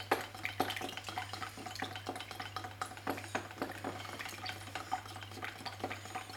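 Homemade fuel is stirred by hand with a stick, making a rhythmic series of soft liquid sloshes and knocks, close and quiet over a steady low hum.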